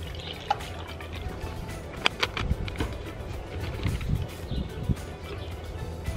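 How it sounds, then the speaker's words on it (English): Water trickles and drips into the bowl of a portable dog water bottle at the push of a button, a soft, close, uneven liquid dribble over a low background rumble with no talking. "if I push this button right here, water fills up."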